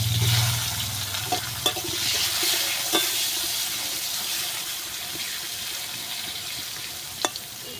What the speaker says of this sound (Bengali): এবার কাঁকরোলটাকে নুন হলুদ মাখিয়ে রেখেছিলাম, এটাকে এখন দিয়ে দেবো কড়াইতে।